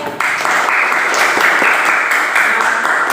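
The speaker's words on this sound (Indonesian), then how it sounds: "tepuk tangan buat Mbak Cynthia" An elementary classroom breaks into dense, steady applause for a student who just answered, close and loud for a few seconds without pause.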